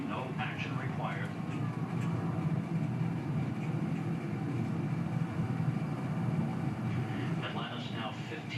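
Space Shuttle Atlantis roars through its STS-135 launch from Kennedy Space Center. A steady, dense, broadband rumble holds for the whole stretch, with a voice talking faintly over it near the start and end.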